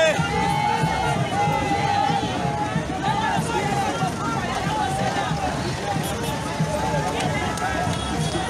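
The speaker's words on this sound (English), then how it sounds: "you see people are all cheering up. People are all cheering up as well." A dense crowd at a political rally in Mon County near Tuporo Junction cheers and calls out continuously, a steady roar of many voices and shouts close by with no pauses.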